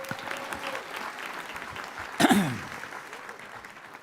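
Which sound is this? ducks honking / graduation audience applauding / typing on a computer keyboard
graduation audience applauding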